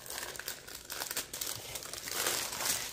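Plastic packaging around a passport cover being opened by hand, giving a continuous close crinkling and crumpling with small tearing bursts, fairly quiet and without talk.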